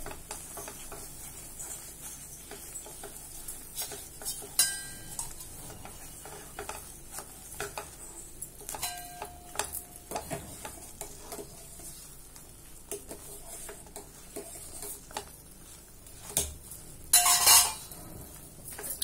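A spatula scraping and stirring a chenna dal mixture in a pan, with irregular scraping clicks and soft sizzling, close and fairly quiet, with no talk.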